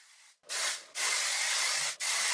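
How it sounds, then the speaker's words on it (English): Dove Flex Hold hairspray sprayed onto a wig, three close hissing bursts: a short one, a long steady spray and another short burst, loud with no talking. "Let's add a little hairspray. I'm gonna use the Dove Flex Hold."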